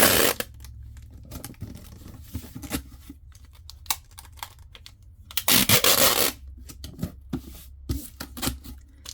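Shipping tape is pulled, stuck and pressed down onto a cardboard box, giving repeated sharp ripping screeches and crinkly rubbing bursts, with quieter handling noises in between.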